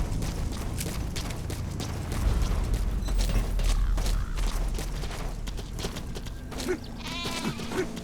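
Sheep bleats in a Metal Gear Solid 5: The Phantom Pain scene, mixed with creaking mechanical noises and a busy layered soundscape, with a wavering bleat near the end.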